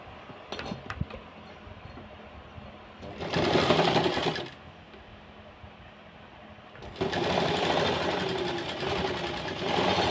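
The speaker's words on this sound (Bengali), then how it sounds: "ওইখানে একটা চাপ সেলাই দিয়ে নেব।" Sewing machine stitching a churidar runs in two loud bursts of steady whirring, one short and one longer, separated by a quiet pause with small handling clicks.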